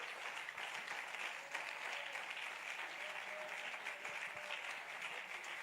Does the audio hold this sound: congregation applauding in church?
yes